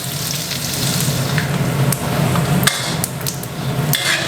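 Thai pork belly frying in oil, rendering until golden, a loud continuous sizzle and crackle close up, with occasional sharp clicks from a utensil against the pan.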